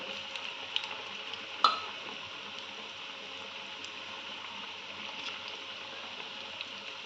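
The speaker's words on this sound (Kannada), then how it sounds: "ಈ ಥರ ಗೋಲ್ಡನ್ ಬ್ರೌನ್ ಕಲರ್ ಬರೋ ತನಕ ಫ್ರೈ ಮಾಡ್ಕೋಬೇಕು" Mixed vegetable pakoda deep frying in hot oil, giving a steady, even sizzle and bubbling throughout with one brief clink near the start, close and moderately quiet with no talking.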